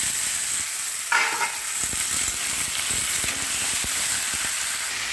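Pumpkin, potato and tomato pieces fry in a pan with a dense, steady sizzle and hiss, close and continuous, with a brief louder burst of spattering early on.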